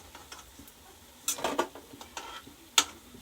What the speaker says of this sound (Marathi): आता हे भजी झाले तर असं काढून घेऊ आपण.